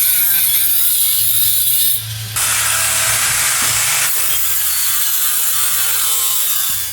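Harsh, continuous grinding bite of a cutting tool into a rusty car sill on a Subaru WRX STI during rust repair, loud and close, with a brief dip partway through before the cut resumes; no talking.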